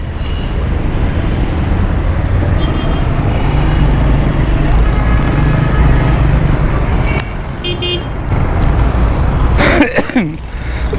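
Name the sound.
road traffic with car horns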